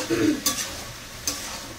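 Onion-kalonji and potato bhaji fry in a pan at home, a soft steady sizzle with a couple of sharp spatula taps and scrapes, heard up close.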